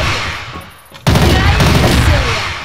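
Loud automatic fire from a 9A-91 compact assault rifle in a video game, a dense continuous burst that breaks in abruptly after a short lull and keeps hammering to the end.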